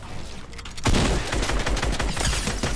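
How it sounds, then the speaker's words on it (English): Meowscles' pew pew rifle in Fortnite fires a dense, rapid burst of close, loud automatic shots that starts suddenly after a brief quieter lead-in and then rattles on continuously. "he's got Meowskull's pew pew rifle?"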